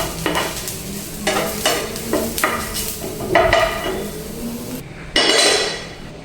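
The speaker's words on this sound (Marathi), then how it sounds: "छान असा कांदा आपला भाजलेला आहे, एकदम ब्राऊन कलर आलाय कांद्याला" Browned onions sizzle and fry in a pan as a utensil scrapes and stirs them with several sharp clanks against the metal, loud and close, with no talking.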